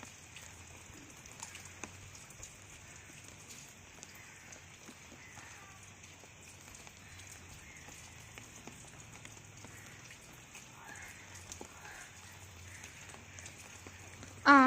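Light rain falls steadily and quietly throughout, a faint, even patter with a brief louder knock at the very end.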